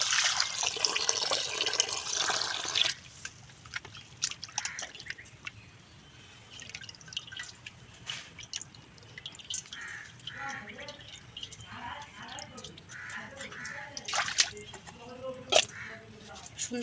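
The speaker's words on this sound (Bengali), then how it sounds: "চিংড়ি মাছগুলো এখন আমি সুন্দর করে ধুয়ে নেব।" Raw shrimp being rinsed by hand under a running kitchen tap, a steady hiss of flowing water followed by splashing and dripping as the shrimp are handled, with someone speaking over it.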